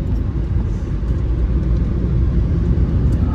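Steady low engine rumble of a car being driven, a continuous dense drone with no breaks throughout, close and fairly loud from inside or beside the vehicle.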